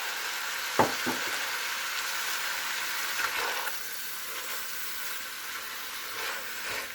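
Ground beef with carrots, celery, onions and red peppers frying in a pan for a spicy cottage pie, a steady close sizzle with a few sharp clinks and stirs early on, no voices.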